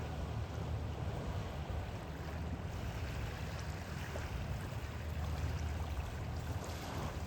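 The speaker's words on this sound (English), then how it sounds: "I'm really kind of digging the sound of the waves, and Eugene is right to my right" Ocean waves wash steadily along a shore near sunset in a broad, continuous roar, with a windy, rumbling low end and no distinct breaks between surges.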